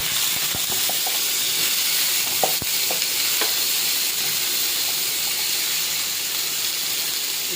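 Vegetables fry in a pan on an induction cooker, giving a loud, continuous hiss and crackle that holds steady throughout, with scattered pops and the occasional scrape of stirring.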